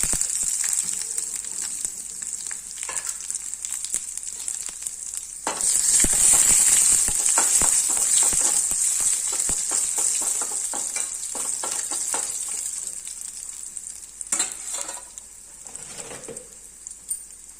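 A sambar tempering of mustard seeds, curry leaves, one dried chilli and some onion fries in hot oil, giving a quiet start before a loud, close burst of crackling sizzle that slowly settles into a long, steady frying hiss.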